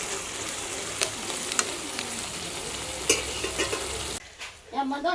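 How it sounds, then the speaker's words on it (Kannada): Mustard seeds, cumin, onion and green chillies fry in oil with a steady, loud sizzle and occasional sharp pops and stirring clicks, cutting to a quieter spattering in the final second. "ಎಣ್ಣೆ ಒಳಗೆ ಸಾಸಿವೆ ಜೀರಿಗೆ ಹಾಕಿ ಉಳ್ಳಾಗಡ್ಡಿ ಹಾಕಿ ಮತ್ತು ಮೆಣಸಿನ್ಕಾಯಿ ರೀ ಸ್ವಲ್ಪ ಚಲೋ ಹೊತ್ತಿಗೆ ಫ್ರೈ ಆಗಿಡ್ರಿ"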